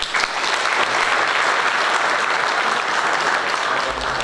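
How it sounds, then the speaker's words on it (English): A round of applause at a University of Zimbabwe engineering student competition, full, steady clapping from an audience filling the hall, loud and continuous throughout. "So can we give a round of applause?"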